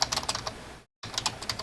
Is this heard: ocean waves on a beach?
no